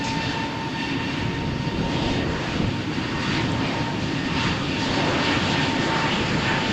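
An EasyJet jet takes off on runway 13 at Malaga Airport on a stormy morning, its engines roaring in a dense, sustained rumble that stays loud and constant, with no talking.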